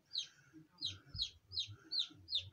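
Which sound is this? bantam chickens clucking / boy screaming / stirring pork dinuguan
bantam chickens clucking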